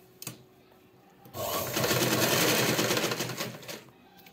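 A sewing machine runs a finishing seam along a folded fabric strip for a neckline, whirring in a rapid, loud burst of about two seconds after a few light clicks, then slowing to a stop.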